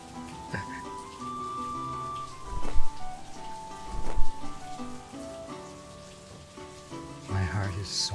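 Steady rain patters through a stormy night, blended with soft sustained music and a few louder low rumbling swells, continuous from start to finish.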